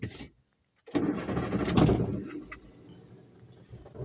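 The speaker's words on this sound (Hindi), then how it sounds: "गाड़ी स्टार्ट मैंने कर ली" Car engine starting for a windshield fog-clearing routine: a brief crank and catch, then a steady idle rumble running close and moderately loud, with no talking.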